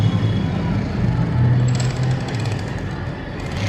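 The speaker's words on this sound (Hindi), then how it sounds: "तो यहाँ पे चल रही है ड्रिलिंग सखियों, इतनी आवाज़ आ रही है ना पूरे घर में" Construction drilling from a nearby building site carries through a house as a steady, loud low-pitched rumble and rattle that fills the whole stretch without a break.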